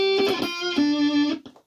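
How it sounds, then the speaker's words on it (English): An electric guitar plays through a digital fuzz with a heavy, buzzing distortion: a couple of short notes, then one sustained note that cuts off abruptly. "my clean guitar, and with distortion, with all the Fuzz."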